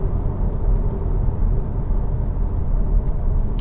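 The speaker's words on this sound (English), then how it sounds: "this is a bit noisy when you go up to speed" A Cupra Formentor cruises at speed, filling the cabin with a steady low road and tyre rumble plus broadband wind noise, constant and close with no talk over it.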